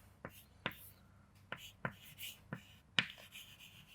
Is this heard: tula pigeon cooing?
no